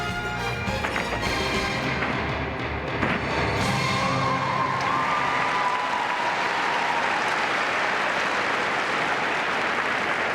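A large crowd at the 2001 U.S. Gymnastics Championships in the Liacouras Center applauds in a dense, sustained roar of clapping that fills the arena evenly throughout.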